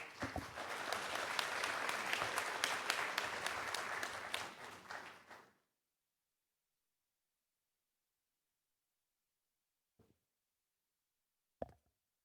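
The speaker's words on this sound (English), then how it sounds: "Another round of applause, please." Audience applause at a government plenary session of a national conference, dense sustained clapping for about five seconds that stops abruptly, followed by near silence with a couple of faint isolated knocks.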